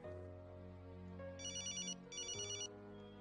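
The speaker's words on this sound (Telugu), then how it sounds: "ఫోన్ చూడు." A telephone ringtone plays alone, a steady tone with two short bursts of bright trilling rings, clear and close with no voices.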